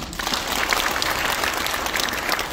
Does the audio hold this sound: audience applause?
yes